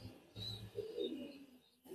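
Pigeons coo in a loft, with a soft, low throaty coo and a faint high chirp, close but quiet, with no talk.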